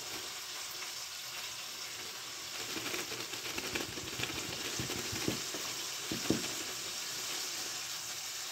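Fish sizzles and crackles in hot oil in a pan, with a continuous frying hiss that grows busier midway, punctuated by a few louder pops and splashes as pieces are added.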